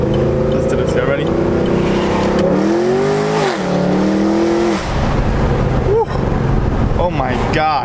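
A sports car engine revs loudly and close, rising and falling in pitch through several sharp throttle blips, with a person's voice audible over the engine.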